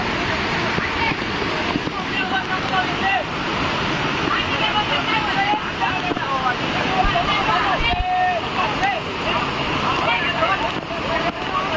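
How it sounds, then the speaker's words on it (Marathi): A powerful waterfall at Dugarwadi sends a heavy flow of water pouring down in a continuous, dense roar that never lets up, with voices talking over it throughout. "भरपूर पाण्याचा ताकदीने पाणी पडू राहिलं खालून"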